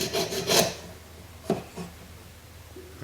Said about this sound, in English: then we're finished it with some sandpaper of different